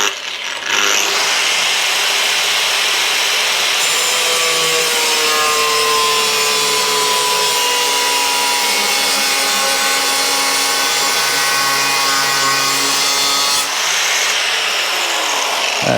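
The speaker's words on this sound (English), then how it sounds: "putting the grinder at a slight angle just gives you a better radius than trying to cut it straight on like that" An angle grinder cuts metal on a custom Royal Enfield motorcycle build, held at a slight angle to the workpiece; a loud, steady whine with a rising pitch runs continuously for about thirteen seconds, with no talking.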